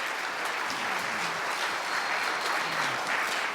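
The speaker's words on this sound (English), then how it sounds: "So a big round of applause to our special fine arts group here." Sustained audience applause for a high school fine arts group at a choir concert, a steady dense clapping texture throughout with no talk over it.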